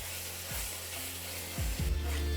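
Tomato with coriander and pepper powder being stirred in a pan for a light katla fish curry, a steady sizzle with a few low scraping strokes of the spoon and a louder stir near the end.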